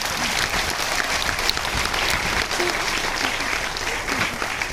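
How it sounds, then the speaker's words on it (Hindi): Award show audience in a hall applauding, continuous dense clapping from many hands, steady and fairly close, with faint voices mixed in. "एक बार मैं ताली चाहूंगा कि आप लोग स्वयं के लिए ताली बजाइए"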